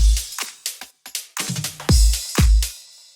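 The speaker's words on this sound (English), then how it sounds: "and also some drum fills," A quick drum fill in a deep house track: a burst of snappy hits and tom strikes rolling across the kit, ending in heavier booming hits with a ringing cymbal wash.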